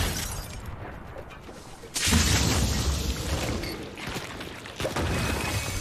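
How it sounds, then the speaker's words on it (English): A boom bow arrow in the Fortnite battle royale game explodes with a loud crashing blast, followed by a sustained rumbling roar and a second burst near the end. "I shot the boom bow at them, hit them, and the explosion got them as well."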